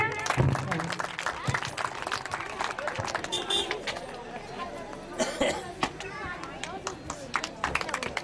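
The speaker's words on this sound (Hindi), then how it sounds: "जोरदार तालियां" Applause from a crowd at a cultural event honouring Kargil War heroes, clapping mixed into busy chatter and babble, steady throughout at a moderate level.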